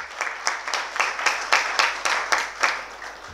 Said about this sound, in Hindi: इस भीड़ को आप समाज के सामने आप ले जाएंगे